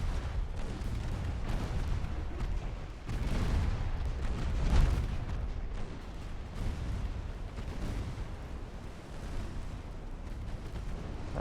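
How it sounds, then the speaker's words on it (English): Warships in Ultimate Admiral: Dreadnoughts keep up secondary-armament fire, heavy, rumbling booms that roll one into another at a steady pace, with no voices. "so now we're just using secondary armaments"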